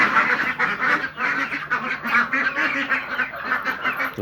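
A group of Khaki Campbell ducks quacks loudly and continuously nearby, overlapping calls in a rapid, chattering rhythm.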